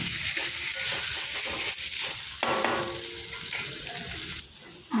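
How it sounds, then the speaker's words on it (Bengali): Potatoes stirred and fried in cooked-down spice paste for an egg and potato dum, a steady sizzle with scraping stir strokes and a brief clatter near the middle, no voices. "এবার আমি আলুগুলো দিয়ে দিলাম। ভালো করে নাড়াচাড়া করে"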